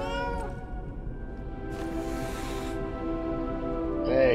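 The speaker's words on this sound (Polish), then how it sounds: "Jest kot." A cat meows in the Lies of P video game, a few drawn-out harmonic cries at moderate loudness over a steady game ambience, with a brief brighter call near the end.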